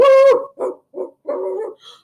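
A human voice playfully imitates a puppy puppet barking: one drawn-out yelp followed by several short yips and a longer whining bark, close and loud, with no other talk.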